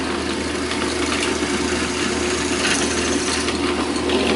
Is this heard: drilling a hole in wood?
yes